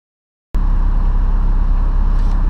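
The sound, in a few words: Honda Accord K24 engine running with AC on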